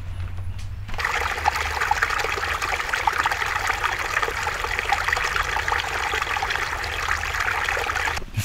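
A small stream trickles steadily through a valley near Koblenz, its close, continuous babbling starting abruptly and running on evenly without pause.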